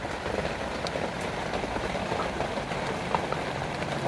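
Heavy rain falling outdoors, a steady, dense hiss of drops that stays even and fairly loud throughout, with no voices over it.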